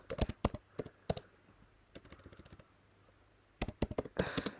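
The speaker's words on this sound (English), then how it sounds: "I told you I'm just typing in like some random words" Quick bursts of typing on a computer keyboard, crisp clustered key clicks close up, separated by short pauses, with no talking.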